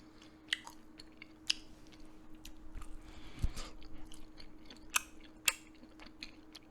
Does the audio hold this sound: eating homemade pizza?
yes